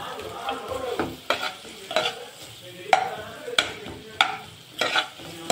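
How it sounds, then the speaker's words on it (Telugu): Sliced onion frying lightly in a pan for tomato and ridge gourd pachadi, with a steady sizzle broken by about eight sharp, close scraping strokes of a spoon stirring every half second or so. "ఇది కొంచెం లైట్గా జస్ట్ ఫ్రై కోసం ఫ్రై చేసుకుందాం."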